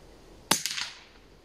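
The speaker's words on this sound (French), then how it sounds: "Et on va se faire 3 balles." Rifle shots ring out in a quick sharp burst of three reports, the first loudest, fairly distant and alone in a quiet setting.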